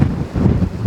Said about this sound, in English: But it's going windy